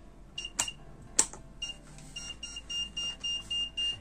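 A Mestek DM100A multimeter gives its lead-error warning after a couple of sharp clicks, with a series of short, evenly spaced electronic beeps repeating steadily, close and clear, with no voices.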